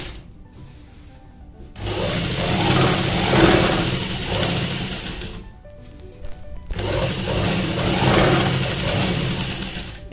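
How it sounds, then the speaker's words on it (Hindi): An electric sewing machine stitches a kurta seam in two steady, whirring runs of several seconds each, separated by a short pause, loud and close with no speech. "यहाँ से हम सिलाई को पक्का कर लेंगे।"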